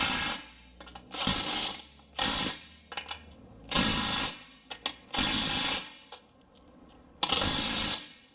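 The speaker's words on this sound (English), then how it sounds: "in case you guys didn't hear it, click, click, click. They're all torqued." A ratcheting wrench tightens ball joint bolts on a Toyota in a repair shop, giving several loud, close bursts of rapid mechanical clicking separated by short pauses.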